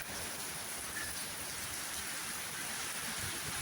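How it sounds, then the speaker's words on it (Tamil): Heavy rain with strong storm wind, a steady dense broadband roar of downpour filling the whole stretch with no letup, close and continuous, no voices over it. "காற்றை பாருங்கள் புயலை பாருங்கள் அதோட மழையை பாருங்கள்"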